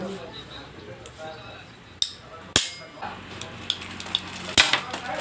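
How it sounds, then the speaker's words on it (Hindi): A chisel is struck with a hammer to knock the bearing out of an angle grinder, several sharp metallic taps spaced irregularly, the loudest near the middle, heard close over a quiet workshop background with some speech. "हम एक कुछ पतला सा चीज़ लेंगे, जैसे कि ये छेनी है, तो हम इसको इस तरह से लगाकर आराम से बेरिंग निकाल लेंगे ठोक के"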